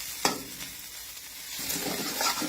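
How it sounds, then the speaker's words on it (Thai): Meat frying in a pan over turned-up heat, a steady close sizzle with a sharp crackle near the start and the hiss swelling again toward the end, no talking. "มาจะเร่งไฟหน่อยนะ ทอดให้เขาสุกเลยคุณผู้ชม"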